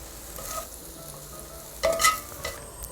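Fish cake stir-fried in a frying pan until dry, giving a soft continuous sizzle with a brief louder scrape of stirring midway, heard alone without speech.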